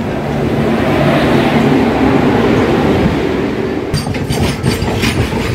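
The 12988 Ajmer–Sealdah Express runs along the chord line toward Dankuni Junction with a loud, close, continuous rumble. Near the end a brisk rhythmic clatter of wheels over rail joints joins in.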